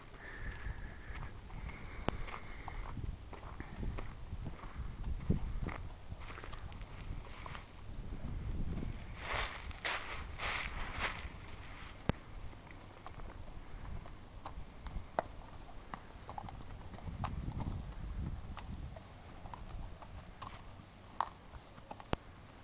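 Horse hooves clip-clop at a walking pace over a steady outdoor hiss, with occasional snorts and soft rustles.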